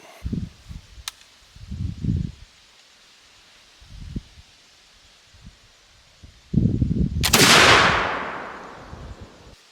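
A flintlock muzzleloader loaded with a Skychief shot load fires once, a loud sudden crack with a hissing, fading tail, following a few quiet handling rustles and clicks outdoors.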